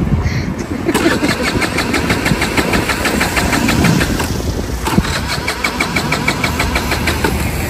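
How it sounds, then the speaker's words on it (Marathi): A scooter engine fails to start, cranking over and over in a steady, even rhythm without catching. The sound is close and loud, with a low rumble underneath. "गाडी स्टार्ट होत नाही"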